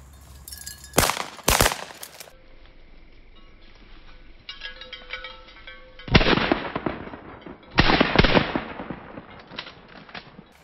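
Shotgun blasts fired while quail hunting, two sharp close reports early on, then two more loud bangs some seconds apart, each trailing off into outdoor quiet.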